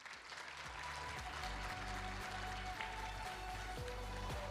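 Sustained, dense applause from an audience at a national ICT summit, greeting an innovation team about to present; steady and loud throughout with no breaks, a low drone underneath.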